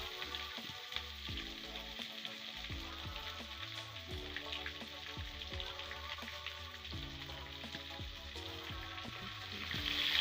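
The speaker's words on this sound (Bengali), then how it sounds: "রসুন পেঁয়াজটাকে একটু ভেজে নিচ্ছে" Garlic and onion frying in oil in a kadai with bay leaves, a steady close sizzle with small crackles and stirring clatter throughout, no voices.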